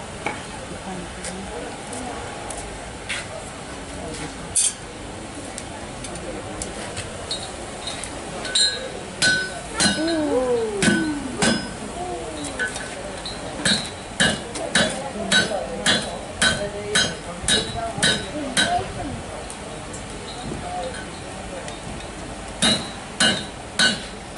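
Hot metal is hammered for a forge weld in a smithing demonstration, heard as sharp, ringing metallic strikes, first scattered and then in a rapid, regular series, set against a hissing forge and a voice speaking in the background.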